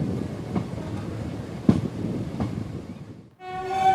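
A train rumbles slowly with faint rhythmic clacks, then goes quiet before a steady tonal hum or horn-like drone rises at the end.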